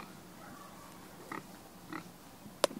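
A pet pig grunts softly while eating old eggs, with a few faint low snorts and a sharper crunching snap near the end, heard up close in a quiet outdoor setting.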